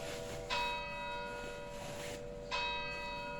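A church bell rings twice with long, ringing overtones, each strike swelling then fading into a steady hum, fairly distant with no voices.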